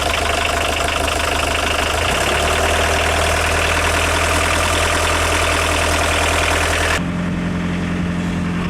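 A VW T3 engine holds a steady raised idle with a low, even droning hum and vibration, alone and close by; its tone shifts slightly partway through, then settles into a smoother drone.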